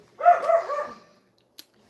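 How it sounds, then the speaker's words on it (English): An indoor dog gives a single short, moderately loud bark that breaks into a brief yelping wobble, followed by a faint click and then quiet. "Tootsie, he's such a good dog."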